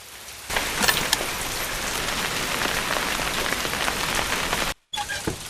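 Heavy rain falls steadily and loudly in a dense, unbroken hiss of drops, cutting to near silence for a moment before resuming.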